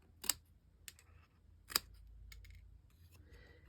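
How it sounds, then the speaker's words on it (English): Scissors make a few crisp snips through paper to trim antennas for a handmade card. The quiet cuts come at irregular intervals, with faint rustling of paper between them. "Now we got to cut those antennas down. So again, I'm going to just snip to the ends."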